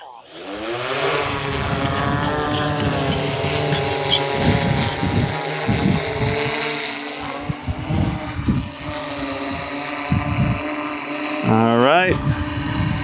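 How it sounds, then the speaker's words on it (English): A DJI M210 drone with a drop system spins up its motors, the rising whine settling into a loud, steady propeller buzz that shifts pitch as it flies; someone speaks briefly over it. "So let's go ahead and fire this one up."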